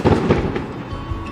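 Unseen fireworks in a Chinese desert setting boom and crackle in a rolling barrage, heavy thuds bunched near the start and then a steady, dense rumble carrying on without any talking.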